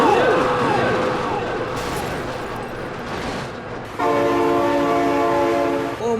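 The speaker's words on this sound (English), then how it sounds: "Oh my god, train!" A train rolls through a BeamNG driving game, its rumble joined by a loud, steady multi-tone horn blast that holds for the final couple of seconds, with a voice exclaiming over the noise.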